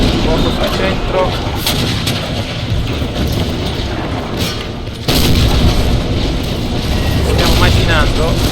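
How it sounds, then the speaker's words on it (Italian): Cannon artillery fire in the Empire: Total War PC strategy game, a dense, loud battle din of repeated booming shots with sharp bursts near the midpoint, while someone talks over it. "i cannoni dove sono? Eccoli qua. Fuoco sul centro."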